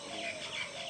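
Birds call in the morning around a tea garden, with faint, high chirps repeating a few times against a soft background hush.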